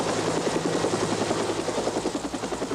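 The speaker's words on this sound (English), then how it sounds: "a helicopter flew at 24 feet above the river" A helicopter passes low over a river at Indian Dunes near Castaic, its rotor beating in a loud, close, steady rhythmic thump that holds throughout with no voices.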